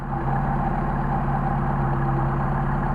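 A Mercedes 190SL engine with Solex carburetors idles while warming up, a steady low rumble that holds unchanged throughout, close and fairly loud with no talking.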